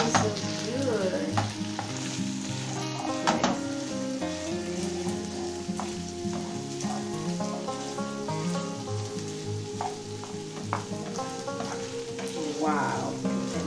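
Potatoes and bacon frying in a pan, a steady crackling sizzle with scattered pops and occasional stirring scrapes, close and continuous throughout with no talking.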